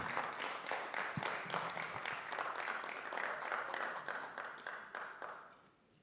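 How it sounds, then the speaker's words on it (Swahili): An audience applauds to welcome Commissioner Lee Fang at a music launch event: dense, sustained clapping from a crowd that holds steady and then fades out near the end. "Put your hands together for Lee Fang"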